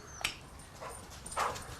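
A dog shut outside gives faint, muffled whimpers and yips, a few scattered short cries heard from a distance.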